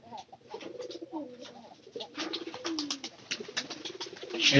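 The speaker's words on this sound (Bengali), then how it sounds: "পায়রাটা কিন্তু অসম্ভব সুন্দর ডাক দিয়ে ডাকতে পারে" A pigeon kept in a home loft, fed on corn, coos in low, repeated rolling calls, close and clear, with brief quieter gaps between phrases and no talk.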